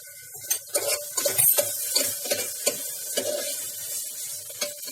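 Onion cooks with ginger garlic paste in a pan for a spicy dry turnip dish. A soft, low sizzle sits under frequent spatula scrapes and light clinks against the pan. No voices.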